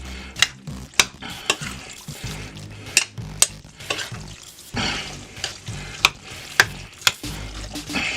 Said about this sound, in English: Stir the oysters in.